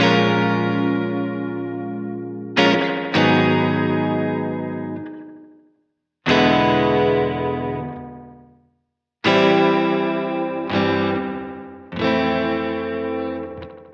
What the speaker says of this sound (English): what you end up with is this very digital sounding reverb